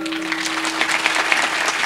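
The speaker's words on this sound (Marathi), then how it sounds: "टाळी वाजवा जोरात." Loud, dense clapping from a kirtan audience, a steady burst of many hands with no voices over it.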